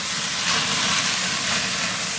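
A steak sizzles steadily on a flaming grill right after being flipped, a loud, continuous hiss and crackle with no pauses and no talking.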